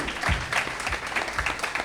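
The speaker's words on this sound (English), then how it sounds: "can we please give our commissioners a round of applause?" Applause from an audience honoring commissioners at a legislative day event on aging, a steady patter of claps with a few louder bursts, fairly subdued and heard alone.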